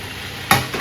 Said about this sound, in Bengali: এই যে আলু ভেজে রেখেছিলাম আর এখানে অলমোস্ট মিডিয়াম সাইজের বা ছোট মোটামুটি ছোট সাইজের তিনটে টমেটো দিয়ে দেবে